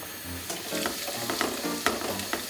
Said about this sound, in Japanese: 温度が上がってきたので入れます。